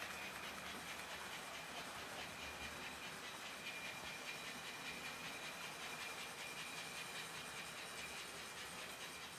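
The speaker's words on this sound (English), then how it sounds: "This engine is shaking like crazy, but it's pulling this train." A small, shaking HO-scale American Flyer model train engine pulls a long train of cars, a faint continuous whir and hiss with rapid rhythmic clicking, no voices.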